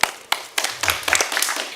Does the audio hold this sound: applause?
yes